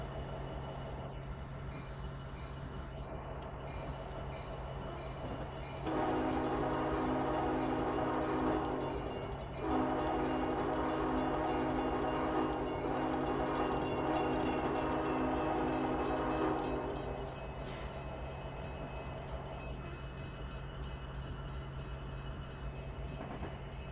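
Simulated train passing in Train Sim 2022 on an Illinois high-speed rail line: a steady rumble swells for about ten seconds with a brief dip midway, then fades back to the constant engine and cab hum, no voices.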